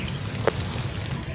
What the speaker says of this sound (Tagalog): Lumalakas na ulan, uwi na tayo.